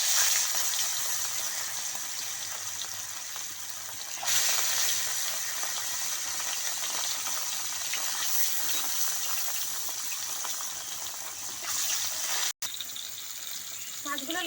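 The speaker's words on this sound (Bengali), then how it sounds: "মাছগুলো লাল লাল করে একটু ভেজে নেব।" Rohu fish pieces, dusted with a little turmeric, fry in hot oil for a Bengali mustard-poppy curry, giving a steady broad sizzle that runs nearly unbroken throughout, close and fairly loud, with a brief cut near the end.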